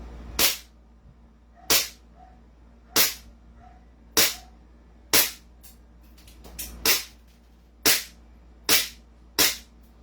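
A Chinese-made Glock 17 clone pistol fires about nine sharp, loud shots at a steady pace roughly one per second, each crack ringing briefly at close range.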